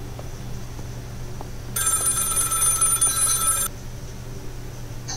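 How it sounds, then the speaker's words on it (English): In the horror video game Maid of Sker, a telephone rings with a bright electronic bell tone lasting about two seconds, loud and close, over a low steady ambient hum. "And the phone is right here."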